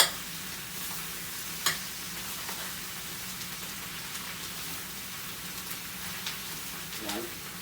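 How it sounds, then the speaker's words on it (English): Corned beef frying in butter and being broken up with a spoon, a steady close sizzle with occasional scrapes and taps of the spoon against the pan. "And just start breaking this corned beef up"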